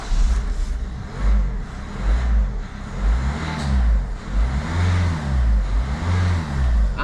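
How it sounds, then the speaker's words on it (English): Peugeot DV6 diesel car engine, just repaired after an EGR fault and a no-start problem, running close by. It revs up and down in repeated rising surges over a steady idle. "Ignition off, turn it back on, see if it starts."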